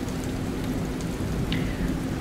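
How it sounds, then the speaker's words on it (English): Rain falls from a summer thunderstorm, making a dense, even hiss and patter that stays steady and fairly loud throughout, with scattered sharper drops and no voices. "I love a summer thunderstorm."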